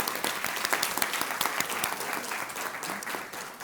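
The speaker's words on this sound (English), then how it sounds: "Bigger round of applause." An audience at a food and health summit claps warmly, a dense crackle of many hands that stays strong and then begins to thin out near the end.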